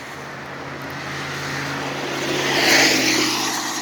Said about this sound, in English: Maybe there's a little bit more traffic than I thought.